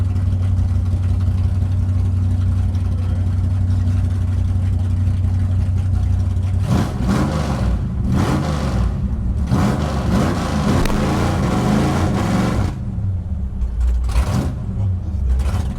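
A 1962 Dodge Dart with a 413 Max Wedge V8 idles with a deep, steady rumble, then is revved hard several times in loud surging bursts, close up on an open road.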